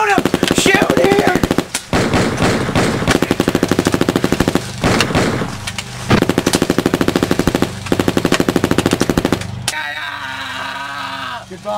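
Sustained, loud bursts of rapid machine-gun fire with short gaps between them, stopping abruptly near the end, while voices shout over the gunfire.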